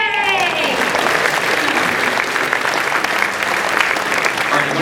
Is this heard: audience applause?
yes